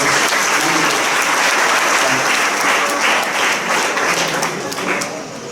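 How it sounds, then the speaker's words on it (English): Loud, sustained applause from an audience at a World Intellectual Property Day event, a dense wash of many hands clapping steadily for several seconds and easing slightly toward the end. "A round of applause for him and for his father."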